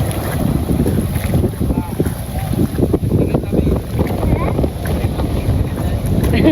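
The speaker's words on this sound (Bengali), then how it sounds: "দেখ নৌকা কেমন দুল খায়।" A small boat rocks on the water outdoors, with low sloshing and heavy wind buffeting the microphone throughout. A voice is faintly audible beneath.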